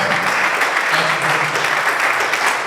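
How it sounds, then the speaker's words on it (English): A hall audience at a Nigerian Bar Association branch opening ceremony gives the panel a round of applause, a loud, dense, steady wash of clapping with no break. "Please a round of applause for the God and the members of the panel."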